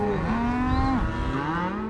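Several cattle moo at once on a Montana cattle drive, long low overlapping calls, some close and loud, others farther off, with no talking.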